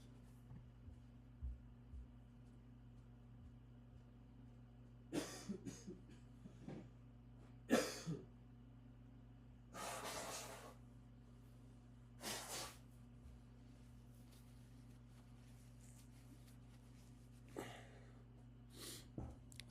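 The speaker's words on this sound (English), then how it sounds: "let me blow my nose" A person blowing their nose in a few short, forceful bursts spread across the stretch, close and fairly loud over a steady low hum, with brief throat sounds between.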